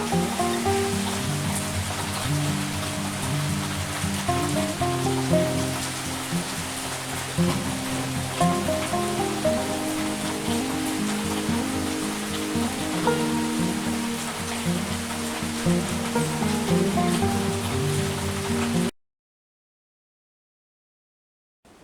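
Steady rain pours down as a dense, even hiss with a gentle melodic backing, continuing for most of the stretch before cutting off abruptly into silence.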